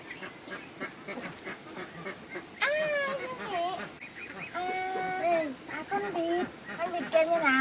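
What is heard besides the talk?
duck quacking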